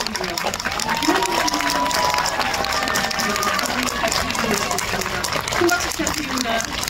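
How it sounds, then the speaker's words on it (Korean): Audience applause at a film screening with guest talk in a cinema, a steady wash of clapping with voices and cheers mixed in, moderately loud. "큰 박수"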